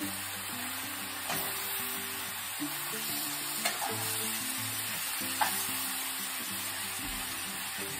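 Beef pieces browning in a hot pan for a maple beef dish, a steady close sizzle and crackle of frying meat with a few sharp pops and occasional scraping of a utensil, no talk.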